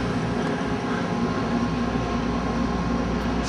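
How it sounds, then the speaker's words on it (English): Heathrow's airport trolley train carrying passengers between gates gives a steady, loud low rumble and hum of a rail car running, continuous throughout with no speech. "This is like the trolley train to go from gate to gate at the airport at Heathrow"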